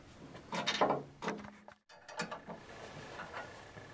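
Metal hardware on a woodstove bypass frame is tightened in a few quick bursts of ratcheting and scraping, close and fairly quiet, with a short pause partway through and softer clicks after.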